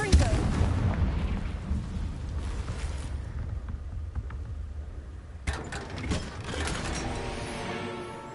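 A Confringo fire spell blast in Hogwarts Legacy, a loud booming burst that rolls into a rumbling roar, with a second sharp impact midway and no talk over it.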